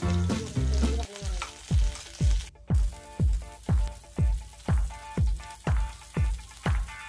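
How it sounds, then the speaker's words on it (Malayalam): Chopped garlic and curry leaves sautéing in hot coconut oil, a loud close sizzle that returns in regular rhythmic bursts as the pan is stirred, with no talk. "എണ്ണ ചൂടായി വരുമ്പോൾ നേരത്തെ അരിഞ്ഞു വെച്ചിരിക്കുന്ന വെളുത്തുള്ളി, കറിവേപ്പില ഇവ രണ്ടും ഇട്ടിട്ടൊന്ന് വഴറ്റിയെടുക്കുക"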